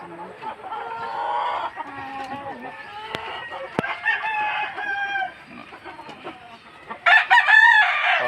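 Roosters and hens on a gamecock farm, several crows rising and falling one after another alongside scattered clucking, fairly close and lively, with a louder crow bursting in near the end.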